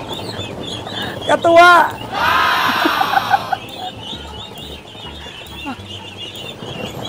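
Pet ducks (itik) give harsh quacks and squawks in a short loud flurry, then softer calls continue nearby while a person speaks briefly.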